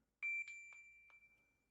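A single soft, bell-like notification chime from a Samsung Galaxy Watch 7 rings out and sustains as it fades, clean and quiet against silence.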